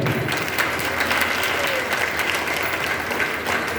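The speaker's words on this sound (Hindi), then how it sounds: "दिनेश भाई के लिए ताली बजाएंगे।" A church congregation claps together for a member who stood up first, a loud, continuous wash of many hands filling the room from start to finish with no speech over it.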